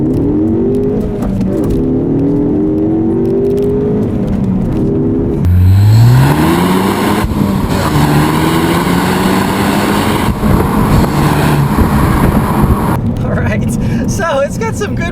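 A 2017 Ford Focus ST accelerates along a back road, its engine note climbing steadily through the gears with a rising whine and a shift partway through, close and loud, while someone talks over it.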